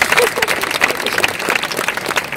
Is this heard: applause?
yes